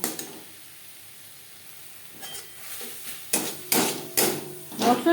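Chilli powder and ground spices are stirred in a frying pan over a faint sizzle, quiet at first, then a spoon knocks and scrapes against the pan several times, close and sharp.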